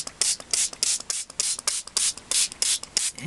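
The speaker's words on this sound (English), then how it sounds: "Get that sprayer going" A handheld spray bottle mists water onto faux leather for a mini album binding, firing about a dozen short, crisp hissing bursts in a quick, even rhythm, close and alone.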